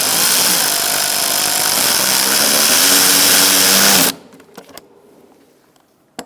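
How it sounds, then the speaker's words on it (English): A small power tool or driver works a fastener on the air filter box of a 2002-2006 Toyota Camry, running in a steady continuous whir for about four seconds before it stops, followed by a few faint clicks and knocks. "Using a 10mm, we're going to tighten this up."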